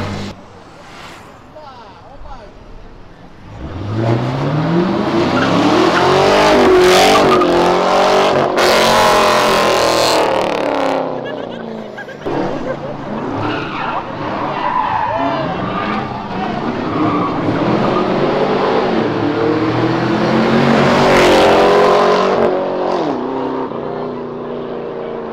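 A white Chevrolet Camaro pulls away and slides out sideways. The engine revs hard and loud with a roaring, rising pitch and a tyre squeal for about twenty seconds, and a voice talks faintly underneath.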